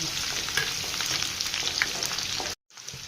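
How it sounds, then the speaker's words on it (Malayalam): Onions fry in hot oil with popped mustard seeds, a close, steady crackling sizzle with small pops throughout and a brief dropout near the end. "ഉള്ളി ഒന്ന് മൂക്കട്ടല്ലേ അമ്മേ ഉള്ളി ഇച്ചിരി ഒരു ഗോൾഡൻ കളർ ആകണം"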